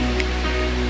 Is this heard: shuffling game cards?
no